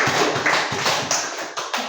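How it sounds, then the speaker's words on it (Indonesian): A classroom of students applauds group 1, a brief burst of dense, steady clapping from many hands that lasts under two seconds. "Tolong diberi tepuk tangan karena sudah berani membaca."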